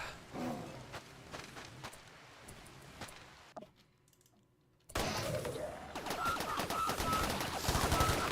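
Gunfire in the game Rimworld: rapid, crackling bursts of shots in quick succession, dropping to near quiet for a moment before a denser, louder volley resumes.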